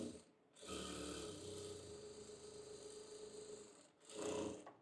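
Sewing machine stitching salwar fabric, a quiet steady mechanical whir running for about three seconds, then stopping briefly before a short second burst of stitching.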